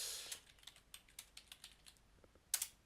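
A chat message being typed on a computer keyboard in a webinar platform, a steady run of distinct, close key clicks with a sharper cluster near the end, no talking.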